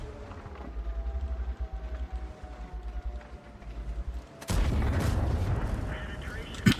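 A heavy autoloader tank cannon fires in a video game, a single loud boom partway through over steady engine rumble and clattering tracks.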